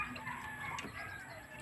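A chicken being kept for market gives a short, close cluck against low background noise.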